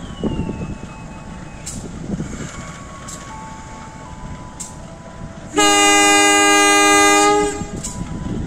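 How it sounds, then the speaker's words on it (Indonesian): A loud, sustained train horn blares for about two seconds as a departure signal over the low rumble of an idling train at a station in Indonesia, with faint beeps earlier. "semboyan 35 sudah dibunyikan masinis, tanda kereta akan melanjutkan kembali perjalanan"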